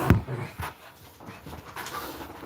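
Dogs pant close by in soft, rhythmic breaths, with a faint whimper mixed in under a steady indoor background.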